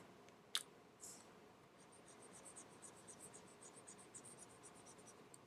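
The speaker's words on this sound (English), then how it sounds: "let me erase this here" Eraser rubbing across a classroom board, a sharp tap then a soft swipe followed by a steady series of short repeated scrubbing strokes, quiet and close with no talking.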